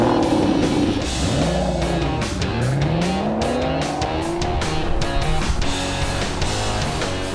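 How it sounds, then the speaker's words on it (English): An Aston Martin tears through a fast lap on Valencia's street circuit, loud and close, its engine revving up and down through shifts with brief tire squeal, the roar sweeping in pitch as it accelerates. "Time for a flying lap in James Bond's preferred car, the Aston Martin, before the circuit is closed off for the race."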